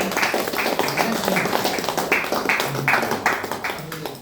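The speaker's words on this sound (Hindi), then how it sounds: "चलिए उनके लिए जोड़ा ताली लगा दीजिए" An audience gives a steady round of hand clapping for first-time attendees at a gathering, sustained and moderately loud for several seconds with no voices over it.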